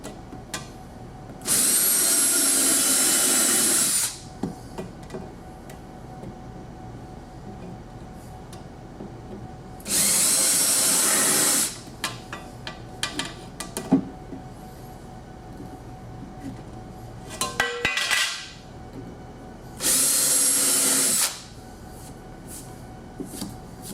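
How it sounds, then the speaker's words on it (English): A power drill drives 1 1/4 inch screws into deck filler on a sliding door installation, three loud close bursts of a few seconds each, separated by quieter handling clatter and a brief shorter whir. "using the 1 1/4" screws, I'm going to screw down the deck filler"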